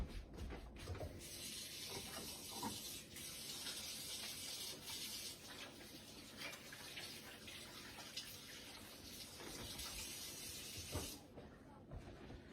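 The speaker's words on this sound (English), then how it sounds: "let me wash my hands a little bit" Hands rinsed under a running kitchen tap, a quiet continuous hissing water stream with splashes and shifting flow, fairly faint and uninterrupted, no talking.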